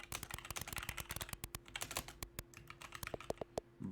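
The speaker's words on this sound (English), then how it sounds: "you can see where my keys are actually being pressed and what finger's actually pressing them" Fast, steady typing on a computer keyboard while playing Mario Teaches Typing, a dense run of close, crisp key clicks with no voices.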